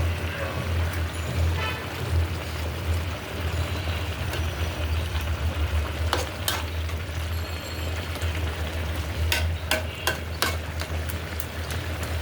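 Koi and tengra fish frying among greens in a pan, a steady sizzle with stirring and occasional sharp scraping clicks, close and moderately loud, without talk.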